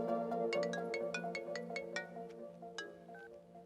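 An incoming-call phone ringtone plays a bright melodic tune of repeated plucked notes, steady and fairly close, with no talk over it.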